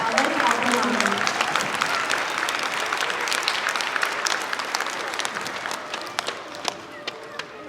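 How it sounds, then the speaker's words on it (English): School assembly crowd applauding Scholar of the Month students at Park Terrace in Gloversville: loud, dense clapping that thins into scattered individual claps toward the end, with voices and a child's cry mixed in. "Let's give one more round of applause to all of our Scholars of the Month."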